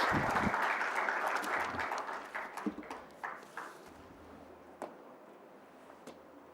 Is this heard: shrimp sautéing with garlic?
no